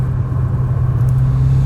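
A Mitsubishi Lancer Evo 10 engine running through its stock exhaust gives a deep, bassy, steady drone, loud and close, with no talking.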